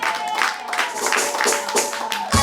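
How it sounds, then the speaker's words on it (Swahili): A church congregation claps for Jesus in dense, continuous applause, with high ululating cries rising over the clapping and a thud near the end. "makofi na vigelegele kwa Yesu"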